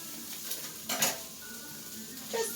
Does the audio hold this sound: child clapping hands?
no